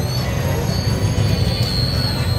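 A train rolls past a railway level crossing in Joypurhat, Bangladesh, close and loud, with a continuous heavy rumble and a high steady wheel squeal over it.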